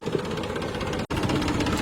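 A Massey Ferguson tractor with a plough attached runs its engine at a steady, close, loud drone that continues evenly and drops out for a moment partway through.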